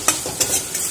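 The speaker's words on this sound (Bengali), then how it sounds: "এবার একটু ভালো করে এটাকে টমেটোটা গলে যাওয়া পর্যন্ত রান্না করব" Tomatoes fry in a pan with a close, loud sizzle and three or four quick scraping stirs in a brief burst.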